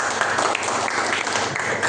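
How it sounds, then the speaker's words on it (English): An audience at a Toastmasters club meeting applauds, a steady, dense clapping that carries on through the whole stretch at moderate volume. "Please give a big round of applause to him."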